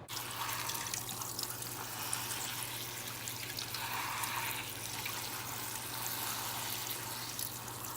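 Running tap water pours steadily into a kitchen sink as vegetables, including zucchini, are washed underneath, a continuous close splashing rush with a faint low hum beneath it.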